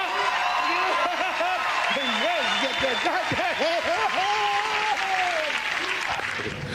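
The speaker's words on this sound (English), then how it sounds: "How about a big round of applause for the fat ass dancers" A comedy show crowd applauds steadily throughout, with cheers and whoops mixed in and a voice talking over the clapping.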